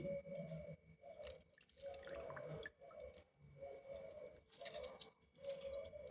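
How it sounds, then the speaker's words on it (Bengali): Water squeezed from soaked, washed soya chunks drips and trickles into a vessel, a steady run of close, wet drops coming in short bursts with brief pauses between them. "খুব ভালো করে সোয়াবিনটা ধোয়া হলে সোয়াবিন থেকে চিপে সমস্ত জলটা বার করে নিচ্ছি।"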